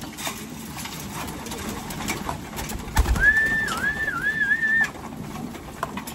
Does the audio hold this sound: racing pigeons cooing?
yes